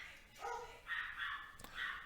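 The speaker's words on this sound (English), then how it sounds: "Sorry about the dogs in the background." Several dogs bark a few times at a distance, muffled short yaps and a yelping whine kept in the background on a rural property.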